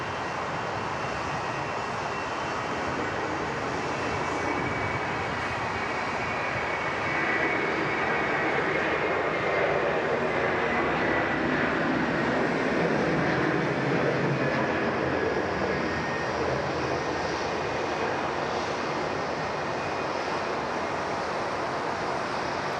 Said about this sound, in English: Very nice early rotation there from the Qantas 330-300 series